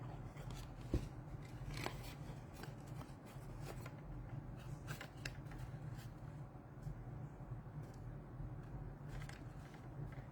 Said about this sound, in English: So that's the reason I like to cut this slit on the side.